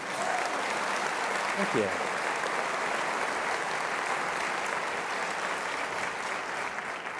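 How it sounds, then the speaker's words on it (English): Sustained audience applause for a leadership speaker, a steady wash of clapping at moderate level throughout, with someone briefly speaking over it near the start. "Thanks for the applause."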